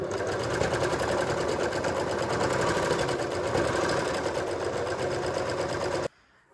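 An overlocker serger stitches fabric for a draped top, a fast, even mechanical whir with rhythmic needle chatter running steadily, then stopping abruptly near the end.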